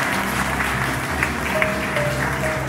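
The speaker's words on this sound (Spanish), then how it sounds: "me le regalaron un fuerte aplauso" Sustained, dense applause from a crowd inside the Sagrado Corazón de Jesús church in Loma Larga, a steady wash of clapping at even loudness throughout, with no pauses.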